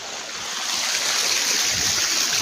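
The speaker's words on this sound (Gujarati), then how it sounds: "મસ્ત પાણી આવે છે" Water gushes from a motor pump outlet into a farm field channel, a loud continuous rushing splash heard close by with no voices over it.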